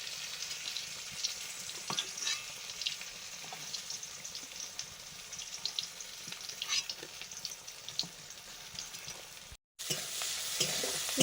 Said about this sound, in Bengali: আর ওই সর্ষে শাক ছিল, একসঙ্গে ভাজা হচ্ছে।